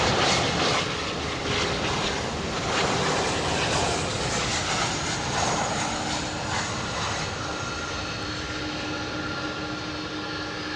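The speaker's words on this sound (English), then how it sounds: "Oh, beautiful sound of these engines" Pratt & Whitney aircraft engines run at an airport, a loud, steady broadband roar with a whining tone on top that gradually eases, with no talking over it.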